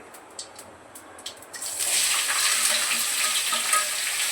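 After a few light clinks, a loud burst of hot-oil sizzling starts and continues steadily as food fries in oil, close up, with no talking.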